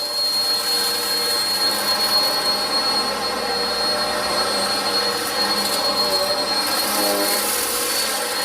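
Steady, loud drone of a running Eureka upright vacuum cleaner, its motor whine and rushing air holding constant throughout with no voices.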